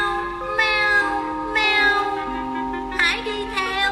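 A cat meows in a children's story, giving several drawn-out, tonal meows in a row, close and clear with a steady musical tone underneath and no speech.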